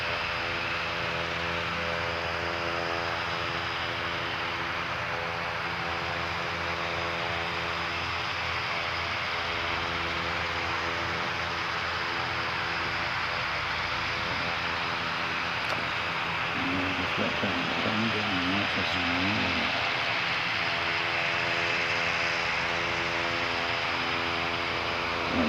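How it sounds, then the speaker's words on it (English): An aircraft engine running on a test stand at Christchurch airport, a steady, broad roaring drone that holds constant and loud throughout, with faint talk in the background partway through. "Sound effects provided to you by the aircraft on test stand."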